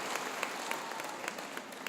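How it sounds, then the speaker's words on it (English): Steady applause from a graduation audience honoring retiring high school staff members, a moderately distant wash of many hands clapping with a few sharper individual claps standing out. "We're going to clap for them again"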